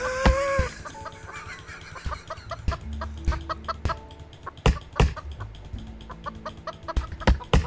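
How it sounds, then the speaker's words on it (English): A hatchet in Roblox Lumber Tycoon 2 makes chicken clucking sounds, repeated short squawks and clucks mixed with sharp percussive hits and game music, loud and close. "it's making chicken sounds"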